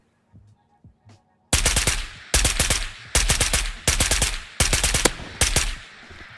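Rapid automatic gunfire from the video game Ghosts of Tabor, with a Galil rifle, comes in five loud, close bursts after a few faint clicks, each burst a dense rattle of shots separated by brief pauses.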